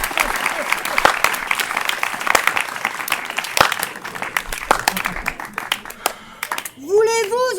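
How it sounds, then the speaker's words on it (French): A small theatre audience in a house performance claps in scattered, uneven bursts, with individual hand claps standing out. A voice cuts in near the end. "un applaudissement"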